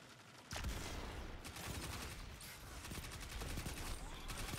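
Gunfire in a Destiny 2 Trials match, with a sniper rifle among the weapons: a rapid burst of sharp shots starts abruptly, then a steady crackle of repeated reports continues, fairly loud throughout.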